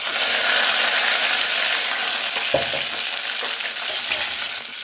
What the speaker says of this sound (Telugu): ఆయిల్ కూడా హీట్ అయింది అందులోకి ముందుగా పోపు దినుసులు కొద్దిగా అలాగే ఆనియన్స్ కరివేపాకు